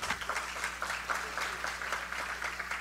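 An audience at a Brazilian symposium on constructed wetlands gives a round of applause, moderately quiet, dense clapping that continues steadily over a low background hum.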